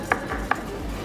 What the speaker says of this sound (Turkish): Sarımsaklarımı ezdikten sonra ufak ufak doğruyorum.